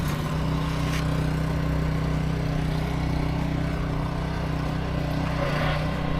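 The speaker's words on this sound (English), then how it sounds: "somebody started up a lawnmower" A lawnmower engine drones steadily nearby with a constant loud mechanical hum and rattle, running continuously throughout without a break.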